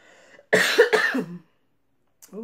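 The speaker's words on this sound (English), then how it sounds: "I'm still dealing with this cough" A single harsh cough bursts out close to the mic, followed by a short breath and faint trailing sounds in a quiet room.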